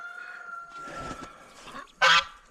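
A guinea fowl gives a loud, harsh call among geese and ducks on a frosty farmyard, with one sharp burst standing out near the end over quieter honking.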